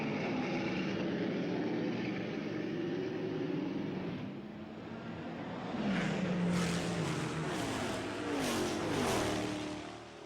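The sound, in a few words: Porsche 917/30 Can-Am race car engine racing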